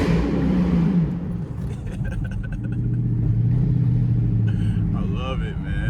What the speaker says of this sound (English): Hit a little downshift.